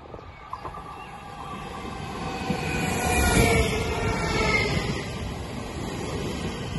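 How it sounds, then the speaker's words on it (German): A DB Class 423 S-Bahn Köln electric train rounds a curve at Stolberg (Rheinland) station, its rumble swelling from a quiet start to a loud peak mid-pass, with a faint high wheel squeal on the bend. "Eine Baureihe 423 biegt hier um die Ecke. Ein Zug der S-Bahn Köln"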